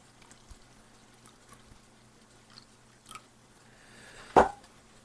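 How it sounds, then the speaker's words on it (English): A short burst of water pours into a container of cherry drink powder from a 1988 MRE near the end, preceded by quiet rustles and a light clink. "So let's add some water in here."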